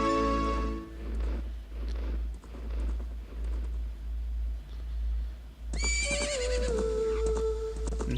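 Epona the horse whinnies in Ocarina of Time, with a few short neighs at the start and a longer, loud, wavering neigh near the end over a low, steady pulsing game background.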